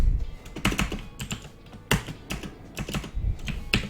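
Code being typed on a computer keyboard for a merge sort routine, with irregular bursts of close, crisp key clacks and brief pauses, no voices.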